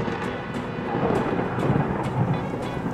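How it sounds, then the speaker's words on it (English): Steady rain hiss with low rumbles of thunder rolling in the background, no voices, continuous throughout. "It's raining."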